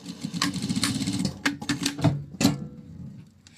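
A domestic sewing machine stitching a seam on fabric for a small child's bob-style hat, running in short rattling bursts with pauses between them, close and fairly loud, with no voices.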